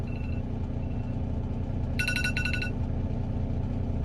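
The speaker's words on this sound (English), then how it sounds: "That was my alarm." A phone alarm chimes in a short burst of bright repeated electronic tones, two quick pulses heard over a steady low rumble of background noise.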